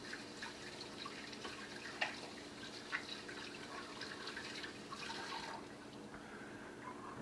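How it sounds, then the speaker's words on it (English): Tap water runs steadily in a kitchen during handwashing, a faint, even splashing with a few small knocks and drips. "Wash my hands."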